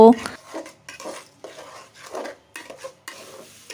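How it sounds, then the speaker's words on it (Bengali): Polao rice fries in oil in a pot as a spoon stirs it, giving loud, irregular scrapes and clanks against the metal in short bursts, with a faint sizzle between strokes. "তেলের সাথে পোলাওটাকে কিছুক্ষণ ভেজে নেব"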